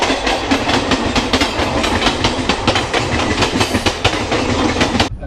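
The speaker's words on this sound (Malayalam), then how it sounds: "ഇതേ വരുന്നു ലോക്കൽ," Mumbai local train on the Western Railway passing close by, loud rhythmic clickety-clack of wheels over rail joints with a continuous roar, cutting off sharply at the end.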